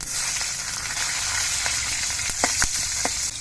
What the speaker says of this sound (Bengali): কাঁচা লঙ্কা আর কালো জিরিটা ভাজা হয়ে যাওয়ার পর